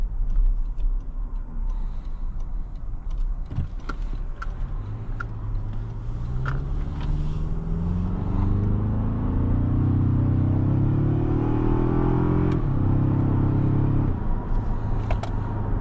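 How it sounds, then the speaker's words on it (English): A 2024 Toyota Tacoma Limited's four-cylinder turbo engine accelerates in sport mode, a low rumble climbing steadily in pitch through the gears, loud and close from inside the cab, with no talk over it. "For a 4-cylinder turbo, it sounds pretty good."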